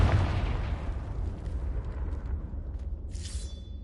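A Confringo fire-blast spell explodes in Hogwarts Legacy, a loud boom at the start that rolls off into a long rumbling decay, followed by a faint crackle and a brief bright shimmer near the end.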